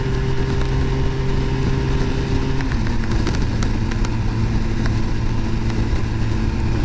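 A Vitacci GTO 332cc motorcycle's engine drones steadily at about 75 mph and 6,000-7,000 RPM, a continuous buzzing tone mixed with heavy wind rush and a slight pitch change partway through.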